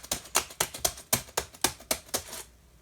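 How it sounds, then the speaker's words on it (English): Keys on a Panasonic Toughbook CF-C1 convertible laptop keyboard are pressed one at a time, about ten sharp, evenly paced clicks sounding close and clear, then the tapping stops. No one speaks. "So yeah, you can sit here and press buttons on the keyboard"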